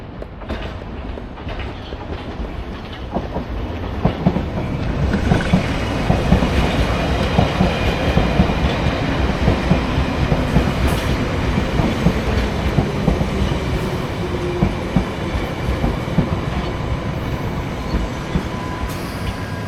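A London Underground Piccadilly Line 1973 Stock train runs in cold weather, rising from a quiet approach into a sustained rumble with rhythmic wheel clatter and faint squeal, loud and steady to the end with no voices.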